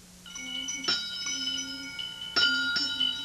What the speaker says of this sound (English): just doing the bell?